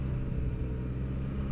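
A 2024 SYM Maxsym 508TL scooter engine runs at full throttle, heard as a continuous low, loud rumbling drone with no pauses over a short stretch, without speech.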